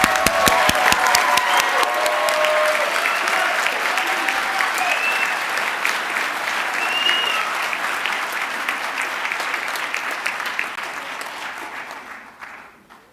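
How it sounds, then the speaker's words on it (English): Audience applause for graduates at a college commencement ceremony in a fine arts hall, a dense sustained crowd clapping with scattered faint voices, steady for several seconds before tapering off. "let's go ahead and give them all a round of applause"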